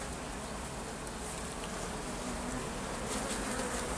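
Bees buzz in a dense, steady drone at an open beehive during preparation for wintering, close and continuous with no voices.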